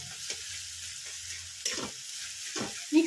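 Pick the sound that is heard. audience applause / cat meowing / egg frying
egg frying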